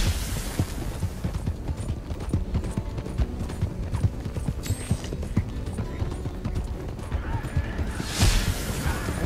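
Horses gallop in Red Dead Online, a Norfolk Roadster among them, crossing a bridge in a race; dense, rapid hoofbeats run steadily throughout with dull thuds and bursts of gunfire-like noise, and a voice talks intermittently.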